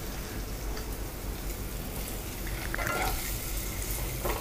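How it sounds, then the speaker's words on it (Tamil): Egg masala roasting in a pan: a steady, close sizzle and crackle with soft stirring scrapes, continuous and even throughout, with no voices. "இதை நல்லா ரோஸ்ட் பண்ணிக்கோங்க."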